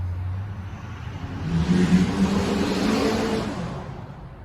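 A Chevy truck drives past on a road, its engine swelling into a loud, broad roar mid-clip and holding steady before easing off as it goes by, with no talk.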